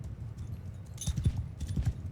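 Horse archers' hooves in Mount & Blade II Bannerlord, several dull thudding hoof beats over a low rumble, with a brief bright clatter in the middle, moderately close and with no speech.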